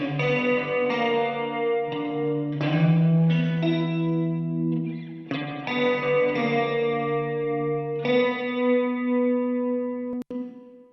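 An electric guitar plays sustained chords through an autopanner that sends a spring reverb to the left and a plate reverb to the right, giving a shimmering, chorus-like wash with long decaying tails and no talking.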